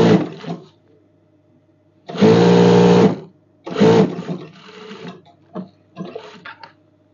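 An electric sewing machine stitches a night dress pocket in short bursts: one longer whirring run, a brief second run, and a few quick stutters, with quiet pauses in between.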